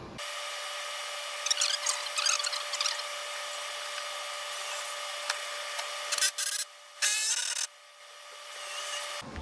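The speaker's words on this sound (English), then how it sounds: "now I'm gonna get the posts and one by one screw them in with 2 screws" Wooden posts are screwed onto 2x4 shelves with two screws each, giving scattered wooden rubs and knocks, then a few short, close bursts of driving near the end with quiet gaps between.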